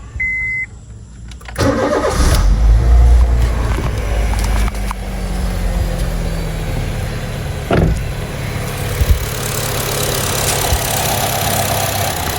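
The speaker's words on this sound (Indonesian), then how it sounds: "ini dia suara dari mesin Honda Jazz GE8 1500 cc iVTEC" A Honda Jazz GE8 1.5 L i-VTEC engine starts after a short beep, then settles into a steady, smooth idle with a low hum, close and fairly loud.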